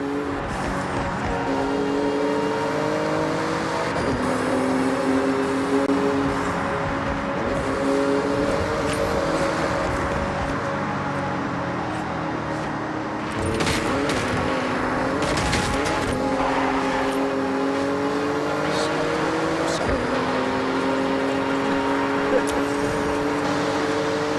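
A Porsche races flat out through a speed zone in Forza Horizon 6, its engine climbing and shifting through gears with steady revving, a brief lift and tire noise midway, under ongoing talk.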